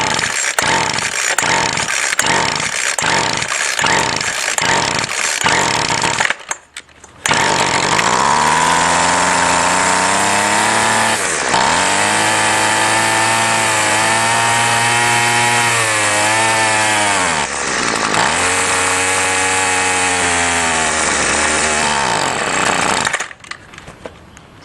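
A small two-stroke weedeater string trimmer engine: several quick pull-start attempts, then the engine catches and runs loud and close for about seventeen seconds, its revs rising and dipping before it cuts out.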